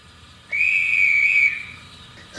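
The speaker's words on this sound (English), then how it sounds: "F16 is a guard whistle." A guard's whistle from the sound package of an Accurascale GWR Manor model steam locomotive: one sustained, shrill whistle lasting about a second, clear and fairly close over faint background hiss.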